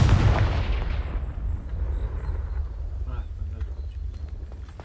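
A sharp, booming fire-spell blast in the Hogwarts Legacy video game, loud at the start and then rumbling down into a low, lingering roar with faint crackles and chimes.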